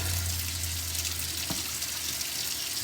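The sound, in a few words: water running from a tap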